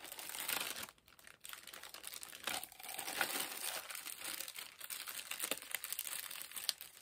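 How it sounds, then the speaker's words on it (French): Plastic wrap around a parcel is cut and cardboard packaging pulled away, making close, quiet crinkling and rustling with scattered crackles and scrapes and a brief pause near the start. "Voilà, on coupe le plastique. On enlève le carton."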